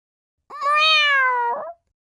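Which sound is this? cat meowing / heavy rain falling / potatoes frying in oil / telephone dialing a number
cat meowing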